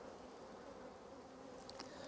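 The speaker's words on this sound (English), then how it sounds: "There's plenty of bees in there. It's a good strong colony." A strong, busy honey bee colony hums inside its hive, a dense, even buzz heard quietly and without break, with a few sharper wingbeats close by near the end.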